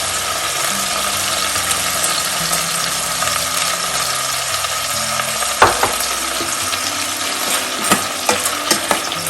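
A South Indian dish mixture is stirred in a pan over a loud, continuous sizzle, with a scrape of the utensil and a few later clicks; no voices.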